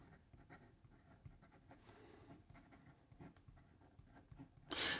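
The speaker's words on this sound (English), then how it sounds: "here we go with the writing sample for the Conklin Mark Twain" A Conklin Mark Twain Superblack fountain pen with an Omniflex nib scratching across paper, a faint, close, continuous scritching of strokes at low level.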